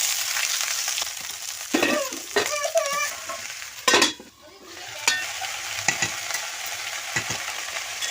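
Ivy gourd stirred while frying in hot oil in a pan, a steady close sizzle broken by scraping strokes of a spoon and a few clinks, with brief voice-like squeaks in the middle.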